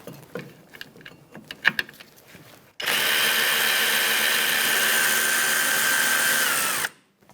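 A power ratchet fitted with a 10mm socket spins a bracket nut off the rear suspension arm of a 2013–2018 Toyota RAV4, a loud steady whir of about four seconds after a few light metallic clinks.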